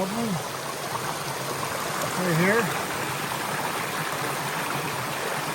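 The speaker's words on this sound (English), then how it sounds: "And I think it goes over and down the waterfall." Water bubbling and trickling down a small waterfall in a garden water feature, a steady continuous flow under an excited voice talking nearby.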